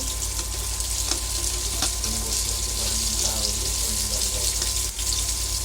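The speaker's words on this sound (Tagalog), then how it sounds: "Iprito po muna natin and then kapag po golden brown na siya, both sides, pwede na po nating hanguin." Tofu fries in a pan for chop suey, giving a steady, close, broadband sizzle that runs without a break, with faint clinks and a low hum beneath it.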